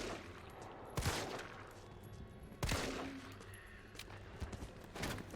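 Gunshots in the Resident Evil Remake video game, several sharp, spaced-out shots ringing out at irregular intervals over quiet ambient game sound.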